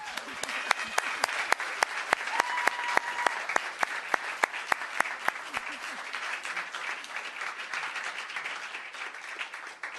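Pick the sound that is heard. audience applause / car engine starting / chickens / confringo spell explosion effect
audience applause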